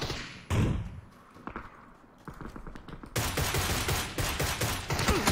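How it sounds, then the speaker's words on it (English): A grenade blast in PUBG's desert event mode, with a loud burst and rattling gunfire-like impacts that carry on as dense, close crackling thuds. "someone threw a grenade right at us"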